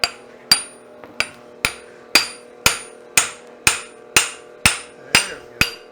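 Blacksmith hammering metal at a forge during a demonstration: eleven sharp, ringing hammer blows land in a steady rhythm about half a second apart, loud and close, with no talking.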